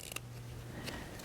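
Scissors trim and clip sewing fabric for a pouch, giving two quick, crisp snips about a second apart that sound close but fairly soft over a quiet room.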